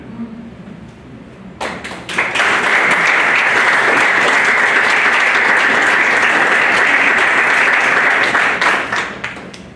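Loud, sustained applause from a crowd, rising abruptly and continuing steadily for several seconds before beginning to fade.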